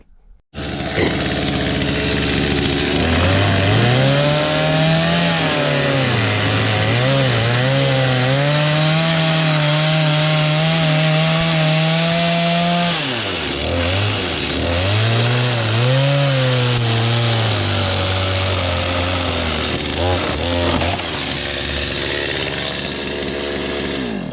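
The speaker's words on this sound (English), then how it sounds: "We'll grab the chainsaw." A chainsaw roars loud and close, its pitch dipping and rising as it bites through wood in one long cut, then a second pass after a brief lull.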